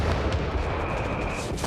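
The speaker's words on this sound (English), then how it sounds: "I've got dropped 305mm artillery on them" 305mm artillery fire in the video game Company of Heroes 3 comes as a dense, loud barrage of booming blasts and rumbling impacts packed into under two seconds.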